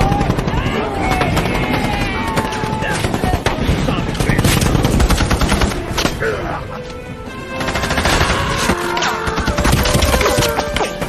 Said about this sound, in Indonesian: di depan sudah banyak pasukan Jepang yang bersiap lalu menembaki mereka